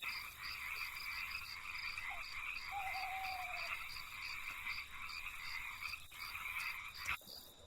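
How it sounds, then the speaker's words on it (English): Frogs croak at night in the woods, a faint, continuous chorus of steady trilling calls with a few brief, softer sounds mixed in and no talking. "frogs making that rivet sound"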